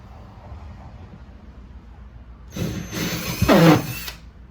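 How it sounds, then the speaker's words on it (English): After a quiet stretch of low background hum, a drill with a half-inch bit starts up loudly, widening holes in a shop cabinet, whining for over a second, rising in pitch before stopping. "we'll go ahead and switch out our drill bit to 1/2 inch, and we'll make these holes a little bit wider"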